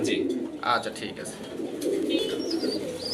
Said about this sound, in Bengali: এটি হলো এক জোড়া লার্ক কবুতর।